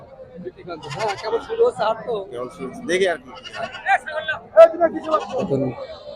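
Several large goats bleat one after another at a goat market, loud and close, over a noisy background of people and crowd chatter.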